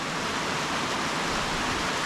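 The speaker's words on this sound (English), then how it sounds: "we made it down here to these waterfalls" Waterfalls along Otter Creek on the Mason-Dixon Trail roar as a steady, broad wash of rushing water, close by and continuous, with no talk over it.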